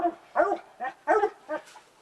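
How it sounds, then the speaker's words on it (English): Hunting dogs bark in a rapid, uneven string of yips and bow-wows during a bear hunt, with a treed bear near them. Fairly close and steady, with no talking. "We got a ton of dogs, and noisy, as you can hear in the background."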